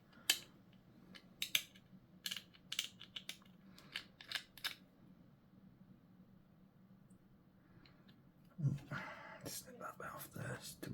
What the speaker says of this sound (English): Snip that bit off there, it's too much.